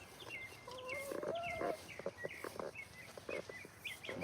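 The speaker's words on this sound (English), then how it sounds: "But I have 9 chickens." A backyard flock of nine hens clucks and calls in short bursts. Overlapping squawks and murmured clucks sound at moderate distance over faint outdoor background noise.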